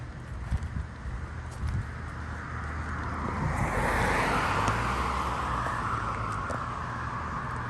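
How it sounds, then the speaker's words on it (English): A car approaches along a roadside in Cedar Key during a Fourth of July event, its tyre and engine rush swelling gradually louder as it nears over steady outdoor wind noise. "Hope this car slows down, lets me cross."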